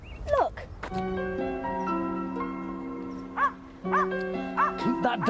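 A dog barks and yips in short sharp bursts near a marshy coastal road, mixed with a sustained tonal music score and voices speaking in between.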